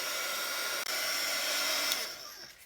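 A hair dryer blowing on a painted junk journal page, a steady close whooshing roar that drops briefly once and then fades toward the end.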